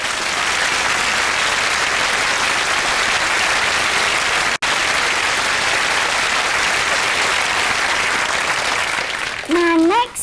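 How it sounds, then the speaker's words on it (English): Studio audience applause on a British TV chat show, a dense sustained wash of clapping that fills the space, broken by one sharp momentary dropout, with a voice rising over the tail as it fades. "give yourselves a round of applause."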